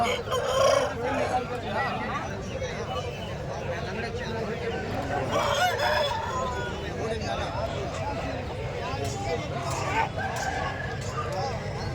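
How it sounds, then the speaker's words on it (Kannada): A desi rooster crows at a Sankranti festival market in Kundarpalli, its calls rising over constant crowd babble and nearby clucking from other chickens, with voices talking throughout. "ನೋಡಿ ಸ್ನೇಹಿತರೆ, ಇಲ್ಲೊಂದಿದೆ ಹುಂಜ"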